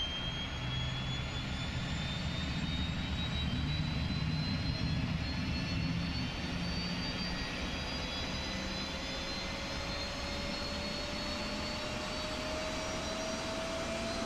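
The APU of a TFDi MD-11 airliner in a flight simulator spools up with a steady turbine roar and a slowly rising whine that keeps going for the whole stretch. No one speaks over it.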